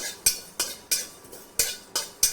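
A spoon scrapes and stirs already-roasted fennel seeds in a pan, lightly re-roasting them for bhajani flour; about seven sharp, evenly spaced strokes ring close and clear with no talk.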